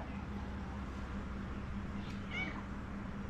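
A cat gives a short meow at a fish market in Sindhudurg, against a steady low hum of background noise.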